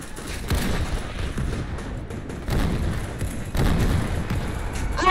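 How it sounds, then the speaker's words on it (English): Video game machine gun fire mixed with booming blasts, bursts of moderately loud shots and thuds repeating irregularly, with a voice briefly heard among them. "There's a machine gunner in there."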